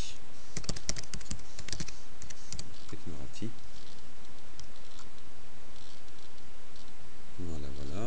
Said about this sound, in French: je vais taper Technorati.